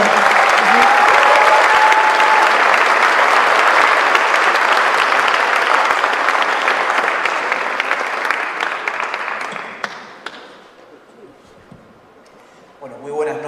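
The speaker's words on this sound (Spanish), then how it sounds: "Un aplauso." An audience at an evening talk breaks into loud, sustained applause that holds steady for several seconds, then tapers off to scattered claps and quiet.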